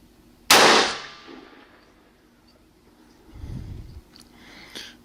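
A single sharp rifle shot at 100 yards, fired through a night vision scope. It cracks loud and close, then decays over about half a second into a quiet outdoor background with faint low rustling afterward.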